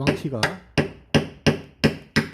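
A hammer taps a dented car body panel during hammer-blending repair, struck with the rod end at the back: about eight sharp metallic knocks in a steady rhythm, loud and close, with a brief voice near the start.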